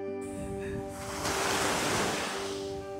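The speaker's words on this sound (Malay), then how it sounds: "Ombak kuat tu." Strong sea waves break on a beach along a Penang trail at Bukit Gertak Sanggul, with a broad roaring wash that swells louder midway and stays steady, close and alone.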